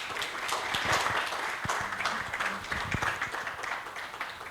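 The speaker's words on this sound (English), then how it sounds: "Let's meet him with a round of applause." Applause rises from the audience at a health-sector annual meeting's opening session to welcome a speaker, steady clapping at moderate distance with a few sharper claps close by and faint background murmur.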